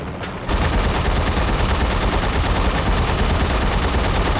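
Rapid automatic gunfire from the video game Haze erupts after a brief lead-in and keeps up a steady, fast, evenly spaced rattle of loud shots for several seconds.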